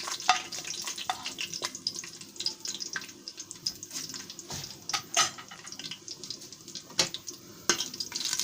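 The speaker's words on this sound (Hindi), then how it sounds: "अब जीरे को थोड़ी देर हम भून लेंगे। अब इसके बाद लाल मिर्च शामिल करेंगे साबुत।" Cumin seeds and whole dried red chillies fry in a pan for an Indian aloo palak dish, giving a steady crackling sizzle with scattered sharp pops and spatters, close and fairly quiet, with no voices.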